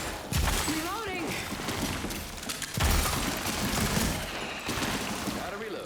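Rapid gunfire bursts from a VR shooter video game, loud and repeated across the moment with sharp impacts and reload clatter, over background game noise.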